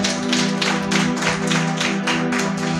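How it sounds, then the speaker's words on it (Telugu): Church congregation clapping hands loudly in rhythm during a prayer service with a pastor, with steady repeated claps over a sustained low hum of music or organ. "గట్టి చప్పట్లు కొట్టు."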